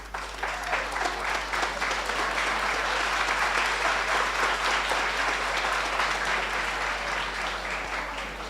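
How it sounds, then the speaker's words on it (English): A large orientation audience at the UWI Mona Faculty of Social Sciences claps in a dense, sustained round of applause, loud and steady throughout before easing slightly at the end. "That round of applause sounds like you really got that"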